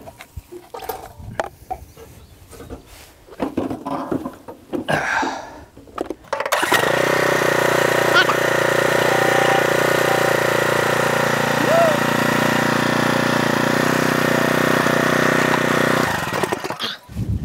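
A walk-behind lawn mower engine, its blade just sharpened and balanced, catches after a few scuffling pulls and then runs at a steady, loud, droning idle close by for about ten seconds before cutting off.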